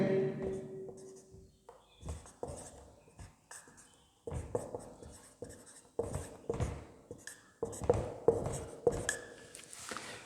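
Marker or chalk writing an unbalanced chemical equation on a board in a class 10 chemistry lesson, close and moderately loud, with short scratchy strokes in uneven bursts separated by brief pauses and no speech.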